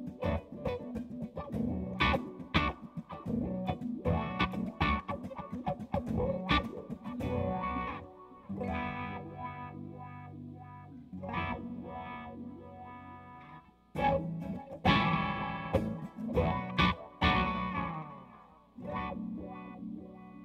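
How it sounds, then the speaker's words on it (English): An electric guitar with a rounded tone plays through a wah pedal, strummed chords and riffs sweeping through the filter, loud and close, with brief pauses between phrases. "just very rounded tone so we can hear what the wah's doing"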